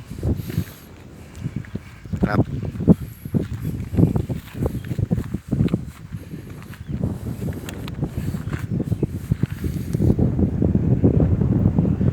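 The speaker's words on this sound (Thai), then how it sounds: "วันนี้ก็ลมแรง" Strong wind buffets the microphone over open rice fields, roaring in gusts with irregular thumps and rustles from nearby movement, growing louder toward the end.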